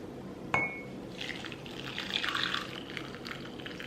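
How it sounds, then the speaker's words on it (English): Hot milk poured over a peppermint hot chocolate bomb in a glass mug, a soft sustained liquid splash and trickle after a faint clink, fairly quiet and close with no talking. "we're going to pour some hot milk over it."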